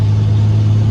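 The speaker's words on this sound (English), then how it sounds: "So right here, lay into it. That's full throttle in the valet mode." A 12v Cummins diesel truck with compound S480 and HE351 turbos at full throttle: a loud, steady low engine drone with a strong hum and a constant rumble for about a second, with no voices.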